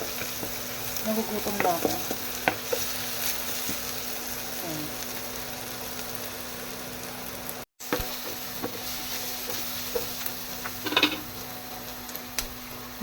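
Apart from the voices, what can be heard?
onion and garlic sautéing in a pan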